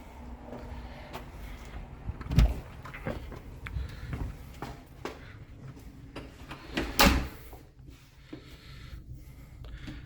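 Front door of a newly built house being handled and opened during a walkthrough inspection: scattered handling clicks and rattles, with two sharp louder thuds of the latch and door, close and otherwise quiet.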